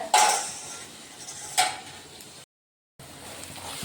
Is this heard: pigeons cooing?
no